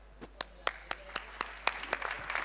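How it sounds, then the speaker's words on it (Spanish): A few scattered, sharp hand claps from a small audience ring out one by one at an uneven rhythm, fairly faint, in a quiet room. "el aplauso es para él hoy"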